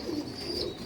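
Sialkot flying pigeons give a short, soft, low coo, close and clear, with no voices.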